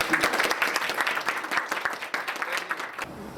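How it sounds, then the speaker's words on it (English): A school audience gives a round of applause for an Arlington ISD elementary teacher of the month: many people clapping briskly and continuously at moderate volume, fading off at the end. "let's give him a round of applause"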